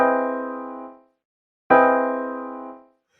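A rich jazz chord is struck twice, each ringing out clearly and fading before a short silence, close and alone.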